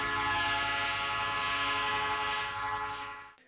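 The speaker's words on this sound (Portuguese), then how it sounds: "é preciso ficar atento ao barulho que o trem faz ao se aproximar." A train approaching on a railway near a road crossing in Brasília sounds a loud, sustained horn blast lasting about three seconds before cutting off abruptly, with no speech.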